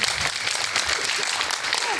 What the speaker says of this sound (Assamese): এটা দিয়ক হাত চাপৰি বজাই পেলাই